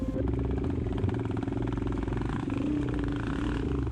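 A Honda XR650 motorcycle on a muddy, wet trail rides off at steady mid-range throttle, its engine note loud and continuous throughout with a thumping, slightly rough rhythm and no talk over it.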